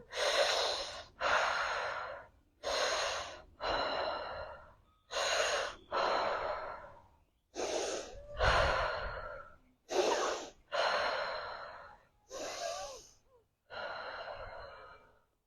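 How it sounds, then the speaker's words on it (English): Slow, deep in-and-out breaths during a guided breathing exercise for head tension release, about a dozen close, loud breath strokes in steady rhythm with short pauses, no talking. "Breathe."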